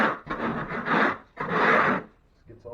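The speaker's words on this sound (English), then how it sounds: "Scrape everything with your knife." A putty knife scrapes across a textured wall in two long, rough strokes, with a shorter scrape at the end, close and fairly loud with no talking.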